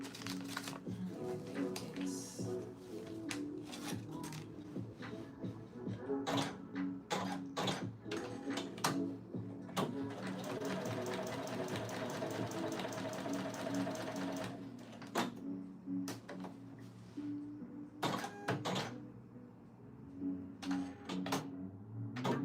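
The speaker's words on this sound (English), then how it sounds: "I'm going to just do a little basting stitch on the bottom line" A sewing machine runs a basting stitch along the bottom line of a mock-up garment to mark where a welt goes, with rapid mechanical stitching coming in short runs and brief pauses, close and steady throughout.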